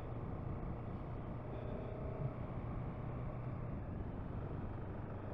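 A 2022 KTM 690 SMC R single-cylinder motorcycle accelerating in third gear, a steady low engine drone with road and wind noise, fairly even in level throughout, no talk.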